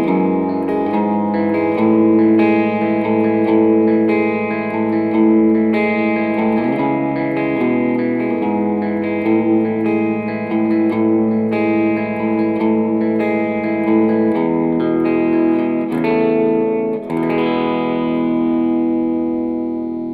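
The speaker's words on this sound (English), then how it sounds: "It's a really light AC30 tone with the air reverb on the back end to make it a little floaty" Rickenbacker electric guitar played through a light AC30 amp patch with airy reverb, ringing chords and arpeggios sustained and floating for about twenty seconds with no talking.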